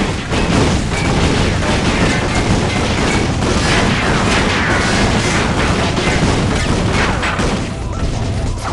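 Weapons fire and explosions from the PS3 video game Ratchet & Clank: All 4 One make a dense, continuous barrage of loud blasts, crashes and gunfire that lasts the whole stretch with no pause.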